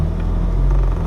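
A Mk2 Vauxhall Cavalier runs along the road, its engine and tyres giving a steady low rumble heard from inside the cabin, brief and continuous with no voices.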